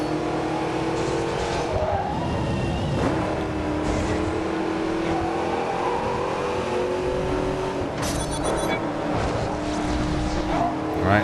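A race car in the video game Blur revs steadily through corners, engine note rising and shifting with gear changes and brief tire squeals, loud and continuous with a bright metallic burst near the end.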